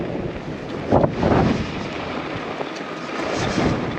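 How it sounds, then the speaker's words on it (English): Blustery wind on a windy day buffets the microphone outdoors, a steady low roar broken by a couple of stronger gusts near the start. "It'll be a tad blustery here because it's windy today"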